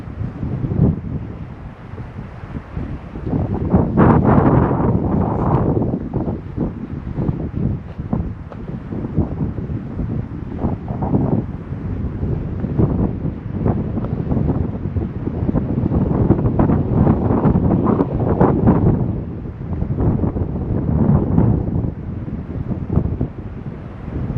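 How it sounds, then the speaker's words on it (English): Wind gusting through pine and manzanita along a mountain trail, a continuous loud rushing roar that swells and eases in waves, with heavy buffeting on the microphone and no voices. "it could just be the pine manzanita getting hit by the wind"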